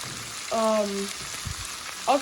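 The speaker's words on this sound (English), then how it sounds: "See how it's sizzling?" Bacon sizzles and crackles in a hot pan without oil, with brief clanking of a utensil and a short tonal squeak over the frying.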